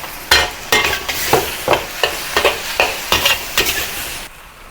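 Kai lan, snow peas and corn stir-fried with chicken and mushrooms in a pan, loud close sizzling with a regular rhythm of about a dozen spatula tosses and scrapes, fading near the end.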